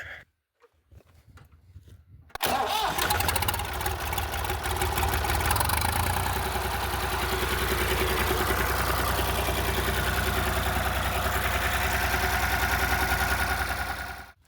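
A few faint clicks and shuffles, then a tractor engine with its exhaust removed catches abruptly and settles into a loud, steady, knocking idle that runs on close by.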